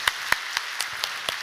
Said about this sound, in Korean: 우리 사랑하고 존경하는 아버님, 어머님께 사랑과 축복과 환영의 박수를 보내드리면 좋겠습니다